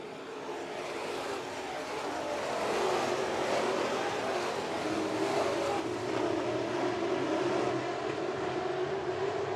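Race cars at Kern Raceway, a short oval, roar past in a heat race, a loud sustained engine drone that swells and holds as the pack circles through the turns, heard from trackside.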